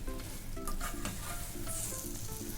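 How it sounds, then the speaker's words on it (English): Ripe bananas cook in a hot pan for a festive banana sheera, giving a steady close sizzle broken by repeated scraping stirs, with no voices. "Cook these bananas till they are soft."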